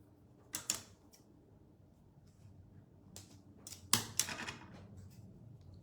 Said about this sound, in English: Snip the end off.